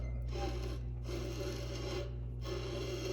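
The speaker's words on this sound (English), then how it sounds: "That is the sound of ripping fibers" Repeated rough rasping bursts of a roughing gouge tearing wood fibers on a spindle blank spinning on a lathe, over a constant low motor hum, with brief pauses between cuts.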